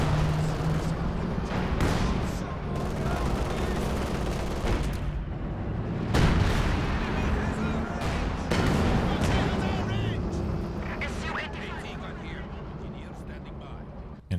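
A Brummbär assault gun fires a heavy artillery shot in a Company of Heroes 2 battle, amid a dense, loud barrage of booms and gunfire, with a commentator talking throughout.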